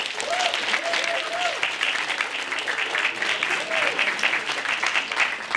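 An audience at a finalist announcement event applauds the jury members, with steady, dense clapping sustained throughout and a few voices calling out over it.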